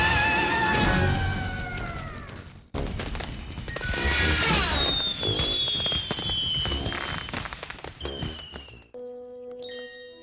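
New Year fireworks in the Netherlands: loud overlapping bangs and crackling bursts follow each other with whistling rockets rising through them, a dense close barrage that ends in a sudden cut.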